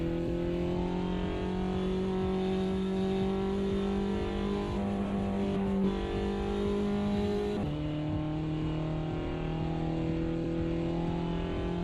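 Steady race car engine drone heard from the cockpit in Automobilista 2, holding a sustained tone with a brief gear shift or dip partway, loud and continuous with no talk over it.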